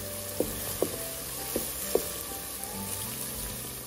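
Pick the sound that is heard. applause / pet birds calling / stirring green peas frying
stirring green peas frying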